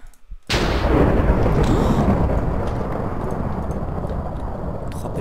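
Thunderstorm in a Hunger Games video game: after a brief quiet moment, a sudden loud thunderclap bursts in and rolls on as a dense, sustained roar that slowly fades, heavy and close, with no talking.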